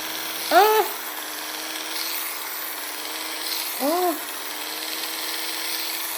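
A Temu electric epilator shaving a leg gives two short high-pitched whirring bursts, each under a second, set against a steady background hum.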